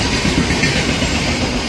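Sampark Kranti Express, the Yesvantpur–Hazrat Nizamuddin service, passing through a station near Dholpur, giving a loud, steady rumble and rail roar with no clear wheel rhythm and no talk.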